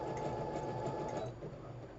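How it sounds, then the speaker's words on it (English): A Brother sewing machine whirs steadily as it stitches, close up, then slows briefly before continuing. "It's a Brother sewing machine."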